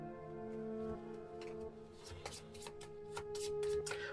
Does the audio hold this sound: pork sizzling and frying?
no